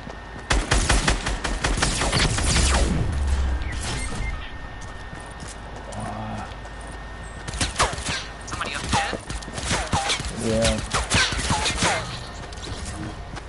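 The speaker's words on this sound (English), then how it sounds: "I hear shooting back here. And explosions." Gunfire and explosions from the video game Fortnite near Loot Lake, with bursts of rapid shots and booms at moderate distance, heard under people talking.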